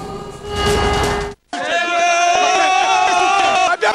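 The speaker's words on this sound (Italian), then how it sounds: "sentite un po' di come ci siamo lasciati andare il coro dei tifosi subito dopo la vittoria del Napoli" Football fans chant together in celebration after Napoli's win at Villarreal, a loud, dense crowd sound that breaks off briefly before surging back in sustained, tuneful unison.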